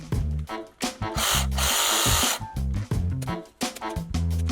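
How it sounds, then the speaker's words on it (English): A sawzall fitted with a pruning blade cuts through tree roots beneath a patio, loud close buzzing bursts of reciprocating sawing that stop and start repeatedly. "I grabbed a pruning blade for my sawzall and I cut all of those roots out."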